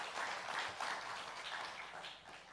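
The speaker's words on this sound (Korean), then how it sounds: "우리 감사의 박수를 보내겠습니다" A church congregation applauding a choir during a Sunday service, a steady dense patter of clapping heard from a distance that gradually fades.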